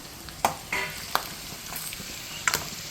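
Green chilies, curry leaves, black pepper and cumin fry in ghee with a steady, close sizzle, punctuated by a few sharp spoon taps and scrapes against the pan.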